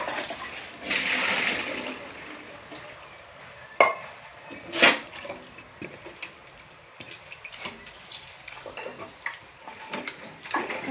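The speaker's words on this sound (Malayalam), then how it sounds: "പാലൊഴിക്കുമ്പോൾ അരിപ്പ വെച്ച് ഒഴിക്കുന്നത് നമുക്ക് നല്ല ഷീറ്റ് കിട്ടാൻ വേണ്ടിയിട്ടാണ്" Rubber latex thinned with water is poured through a strainer for sheet making, giving a gushing liquid pour that fades into softer trickles, with a couple of sharp knocks and clatters along the way.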